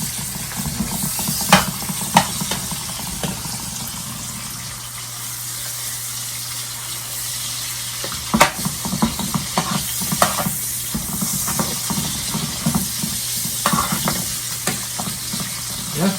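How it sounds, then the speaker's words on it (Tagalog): Onion and garlic sauté in a pan for a beef steak dish, a steady close sizzle broken by repeated scraping stirs and clinks throughout, with no talking. "Lulutuin natin ng kunti yung sibuyas at bawang hanggang medyo"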